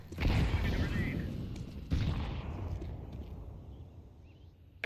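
Grenade blasts and gunfire in a counter-terrorist shooter video game: two heavy booming bursts, about two seconds apart, each fading into a rumbling tail with scattered gunfire.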